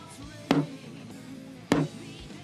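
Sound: drum with muffled, dead, dry sounding head being hit

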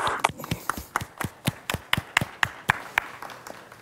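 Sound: applause at general assembly

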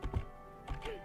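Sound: computer keyboard keys being pressed while gaming

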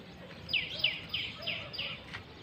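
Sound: birds in a village morning

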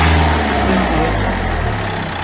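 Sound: car engine revving while measuring MAF sensor

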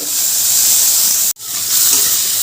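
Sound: shrimp marinated in salt and turmeric frying in hot oil

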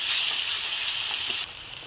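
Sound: onion and garlic paste frying in pan

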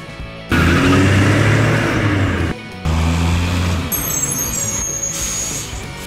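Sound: garbage truck engine and air brakes

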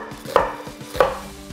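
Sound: chopping half a small onion with a knife

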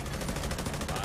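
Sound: gunfire in the video game The Division 2

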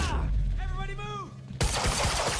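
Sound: gunfire in the video game Quantum Break

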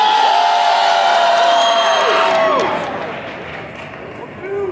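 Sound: convention crowd cheering for contestant

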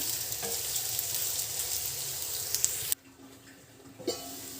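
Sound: meal maker (soya chunk) curry frying in pan

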